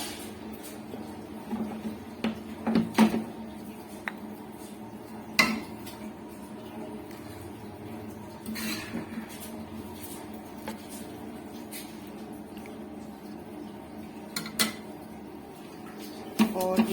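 Masala is spooned over a layer of rice for mutton Sindhi biryani in a pot, with scattered metal spoon clanks and scrapes against cookware over quiet kitchen background, no voices.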